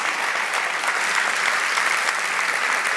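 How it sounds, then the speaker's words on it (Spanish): An audience bursts into sustained applause at a public dialogue event, many hands clapping densely and evenly at close range with no break. "un aplauso, por favor, para Víctor"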